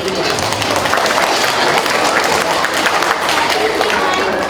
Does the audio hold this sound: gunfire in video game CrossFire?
no